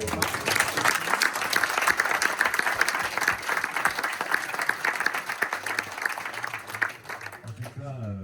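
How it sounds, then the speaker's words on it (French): An audience applauds after a conference talk, a steady, dense clapping that runs for several seconds before tapering, with voices speaking faintly underneath. "Je crois qu'on peut applaudir bien."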